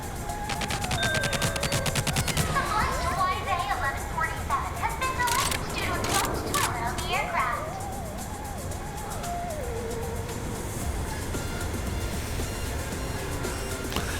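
Rapid bursts of turret gunfire in the TimeSplitters Rewind shooter, dense repeated shots clustered early and thinning later, loud and close, with a voice talking over parts of it.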